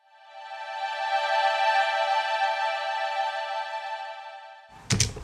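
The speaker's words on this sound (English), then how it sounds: "this one, at the bottom, is a lower pitched violin" Lower pitched violins playing solo, a single sustained bowed tone that swells in, holds steadily for several seconds and fades, ending with a brief knock.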